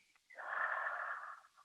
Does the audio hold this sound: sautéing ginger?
no